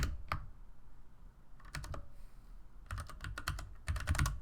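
Bursts of quick, close keystrokes on a computer keyboard come in clusters separated by short pauses, over a low background hum.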